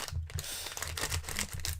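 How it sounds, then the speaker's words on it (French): Scissors snip open a rigid foil booster packet from a Disney Kingdom Hearts 3 Mystery Minis blind box, giving a close, crisp crinkling and clicking cut that runs steadily for under two seconds with no voice. "On va donc prendre les ciseaux."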